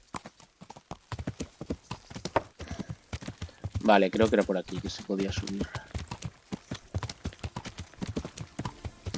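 A horse's hooves clip-clop steadily in Kingdom Come: Deliverance, a quick, even walking rhythm that continues throughout while someone talks over it.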